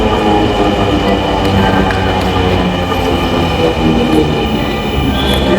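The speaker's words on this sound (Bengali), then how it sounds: "যে এখানে একটা ট্রেন আসতেছে" A Dhaka metro rail train pulling into a station, a loud, close, unbroken rumble of cars and wheels with faint high squeals riding on top for the whole span.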